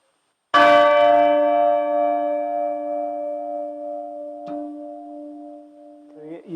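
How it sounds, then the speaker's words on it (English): A church bell, its clapper partly muffled on one side, is struck once and rings on with a long, steady hum that slowly fades. A faint second tap follows, then a brief rustle near the end. "you can hardly hear the bell when it sort of strikes on the muffled side. You have a quieter sound."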